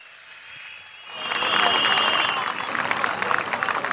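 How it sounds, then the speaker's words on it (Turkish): A crowd at a CHP political rally in Gaziosmanpaşa breaks into applause, swelling from a faint start into sustained loud clapping with a voice speaking underneath at first. "Bir alkış yapın amcama"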